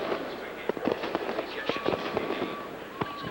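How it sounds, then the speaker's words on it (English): Fireworks go off over the end zone at a 1996 CFL football game in Saskatchewan, a run of sharp pops and crackles with a thin whistle, heard over crowd noise and a commentator's talk. "after a little fireworks in the end zone"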